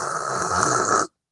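A man imitates snoring with his voice, a single sustained rasping snore lasting about a second, loud and close, then cutting off into silence.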